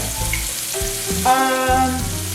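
Food being mixed in a hot pan while cooking shrimp, a loud close sizzle and frying crackle with scraping stirs, no talking.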